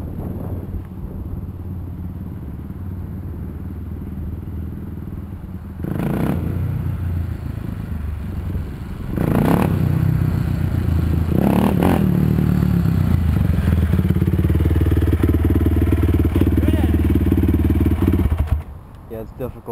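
A motorcycle engine revs hard during wheelie riding, its roar rising and holding strong through the middle and later part of the clip, with brief clattering bursts and a loud, close presence before cutting off near the end.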